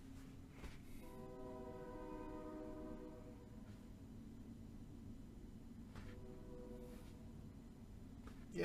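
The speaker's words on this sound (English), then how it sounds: "Here comes the train." A train passes in the distance under a steady low rumble, sounding its horn in two long chord-like blasts several seconds apart; fairly faint, with no talking.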